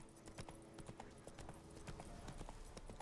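Horse hooves clip-clopping at a steady walking rhythm in the Witcher 3 video game, close and distinct with a faint tonal hum beneath and no talking.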